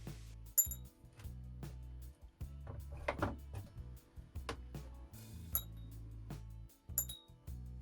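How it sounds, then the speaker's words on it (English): Small metal screws and parts clinking and rattling as a chainsaw is taken apart, scattered light taps and clicks at close range over a low hum. "There's a lot of screws, but we need to get them all out."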